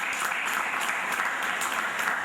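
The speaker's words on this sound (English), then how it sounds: "Let's give a round of applause." An audience at a book launch applauds steadily, a dense, even patter of many hands clapping at a moderate distance for a couple of seconds.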